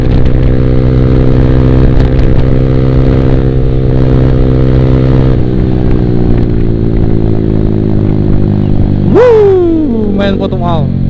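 A motorcycle engine drones loud and steady on a solo ride, holding an even pitch with a gear change partway through and a brief rev near the end.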